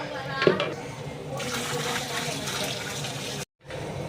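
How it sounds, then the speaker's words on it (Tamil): Water is poured generously into a cooking pot for tamarind kara kuzhambu rice, a steady rushing splash lasting several seconds with a brief gap near the end. "இப்போ தண்ணி ஊற்ற வேண்டியதான்"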